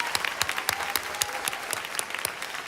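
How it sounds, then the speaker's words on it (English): A graduation crowd at a college and career academy claps, with individual sharp claps standing out rhythmically over a softer bed of general applause, fairly light and close. "Yes, let's clap again."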